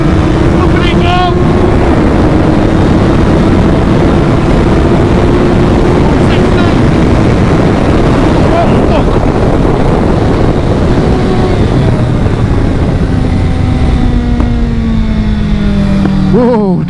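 A Suzuki Hayabusa drag motorcycle of about 400 horsepower accelerating down a runway, a loud, continuous engine roar climbing in pitch as it pulls away, with faint shouting mixed in.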